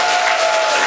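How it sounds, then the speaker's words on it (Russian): Brief burst of audience applause for comedian Alexei Shcherbakov on a TV show stage, loud dense clapping filling the moment. "Аплодисменты ему, братишка."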